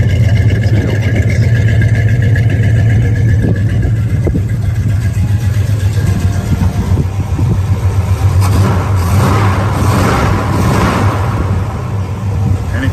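A deep, rumbling muscle car engine idles and revs steadily, loud and close, with throaty exhaust throughout.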